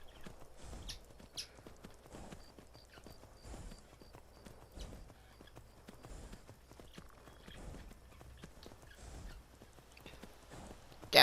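Horse hooves walking in Skyrim: a quiet, steady clip-clop of paced footfalls, alone and fairly close, with a faint background ambience.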